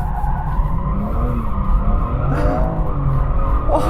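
A BMW M4 drifts at full lock, its tyres squealing loudly and continuously over a deep engine roar. Sharp squeal sweeps come and go close by, with no talking.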